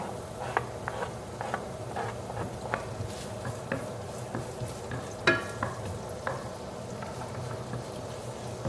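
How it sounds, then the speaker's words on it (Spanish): Onion and garlic fry in melted butter with a soft, steady sizzle, broken by frequent light taps and scrapes of stirring, one sharper knock midway; close and moderately quiet, without speech. "Ya cuando está la mantequilla ya derretida, vamos a agregarle ahora nuestra cebolla y nuestro ajo."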